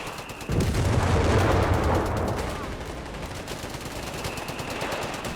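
Anti-tank gun fire in the real-time strategy game Company of Heroes 3, a desert battle between Afrika Korps and US forces: a heavy boom opens a dense, sustained rumble of battlefield gunfire and impacts that stays loud throughout.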